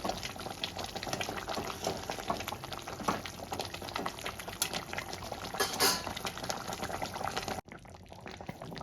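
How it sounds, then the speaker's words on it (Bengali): Katla fish kalia curry boiling in a pan on a gas stove, a steady close bubbling and sputtering that runs without a break before cutting off abruptly near the end. "খুব ভালো করে ফুটে গেছে।"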